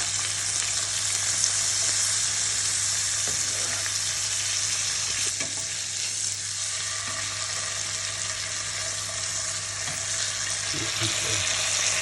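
A knob of butter sizzles steadily in a frying pan beside flat iron steak, a close, even frying hiss with a low hum and a few faint clinks.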